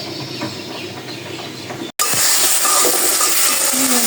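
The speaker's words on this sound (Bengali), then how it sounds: "দুটি শুকনো লঙ্কা ভেজেছি, তেলের মধ্যে ছেড়ে দিয়েছি" Two dried red chillies drop into hot oil and sizzle, opening with a quieter stretch, then a sudden loud, steady hiss that fills the rest of the moment.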